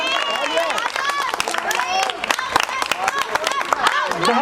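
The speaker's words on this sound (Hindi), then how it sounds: "एक बार जोरदार तालियां।" A crowd at a Ramlila award function in Paschim Vihar Extension claps loudly in quick, uneven bursts, close and energetic, mixed with loud voices and cheering throughout.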